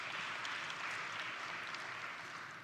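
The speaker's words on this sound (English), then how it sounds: "Let's give it a round of applause for that one" Conference attendees at an aviation gender-equality summit applaud as one, a dense, even patter of clapping that eases off slightly toward the end.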